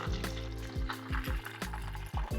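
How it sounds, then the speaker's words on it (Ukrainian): Meatballs coated in panko crumbs fry in oil over medium heat, giving a steady close sizzle with repeated soft bubbling pops throughout. "Смажимо на середньому вогні до золотавої скоринки з усіх боків"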